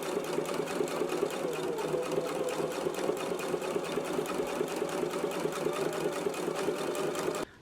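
A sewing machine runs steadily while stitching an understitch beside a seam on a fly front zipper. It gives a fast, even mechanical chatter for about seven seconds, then stops abruptly.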